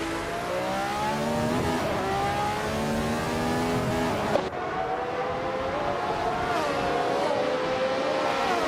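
Race cars in a racing video game, with a McLaren M23 among them, roar past continuously. Engines whine and shift pitch, with one sharp transient midway, as loud steady motor noise.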